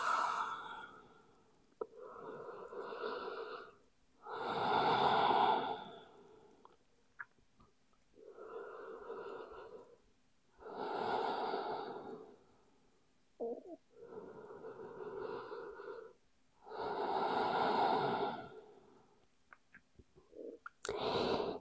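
Slow, deep breathing during a yoga child's pose: about eight long inhales and exhales, close and airy, with quiet pauses between breaths.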